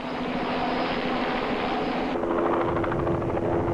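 An RCMP helicopter flies over an island in rural Nova Scotia in December, hauling hay bales to a stranded steer. Its steady, loud rotor and engine drone continues throughout with no talk.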